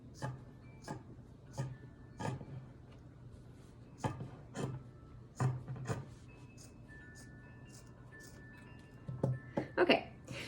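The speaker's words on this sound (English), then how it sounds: "We're going to cut just one strip, and then we will cut it in half for our 2 ties." Scissors cut a strip from a cotton t-shirt in short, separate snips, each a quiet, close, crisp click-and-slice spaced a second or so apart, with faint rustling of fabric between cuts.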